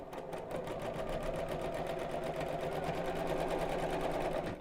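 A sewing machine stitches a biscornu pouch at steady high speed, its rapid even needle chatter running continuously and close throughout, with no voices.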